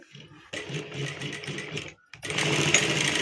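A sewing machine stitches seams on loose pants in two bursts, a moderate run followed by a brief pause and then a louder, faster run, close by with no talking.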